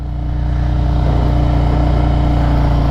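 A motorcycle engine holds a steady throttle while turning from a stop, giving a loud, even, close drone with a regular pulsing beat and a slight rise in level at the start.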